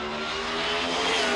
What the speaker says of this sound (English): Victor about to go into stage. He brings the revs up, a lot like Top Alcohol